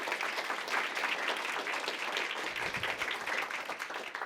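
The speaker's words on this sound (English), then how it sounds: "let's give them a big round of applause" An audience at a NASA SpaceX CRS-19 briefing at Kennedy Space Center applauds, a dense, sustained burst of many hands clapping at moderate distance that carries on steadily for several seconds.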